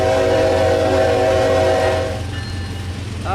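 A train in the video game Train Sim World 3, fitted with a sound mod, sounds a loud sustained horn chord over a steady rolling engine and wheel rumble, the horn cutting off and leaving the running train noise with a brief squeal at the end.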